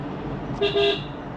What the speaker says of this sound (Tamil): ஹார்ன் அடிக்கணுங்க அப்பப்போ